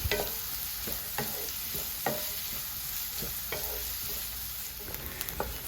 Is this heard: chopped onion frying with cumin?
yes